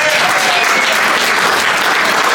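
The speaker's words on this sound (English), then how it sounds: "Can we give Aquila Promotions a good round of applause?" Audience at a boxing weigh-in giving a loud round of applause, dense continuous clapping that stays even and close throughout.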